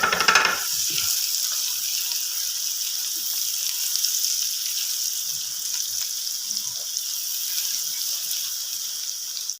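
Two chopped onions frying in a pan for a matar qeema masala, with a loud, continuous hissing sizzle after a short initial burst, steady and close with no talking.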